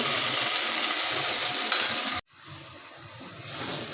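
Beans and tomatoes frying in a pan give a steady broadband sizzle with light stirring scrapes, cut off abruptly about halfway, then a much fainter sizzle resumes, with no talking.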